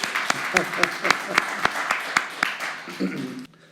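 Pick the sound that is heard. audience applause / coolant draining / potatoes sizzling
audience applause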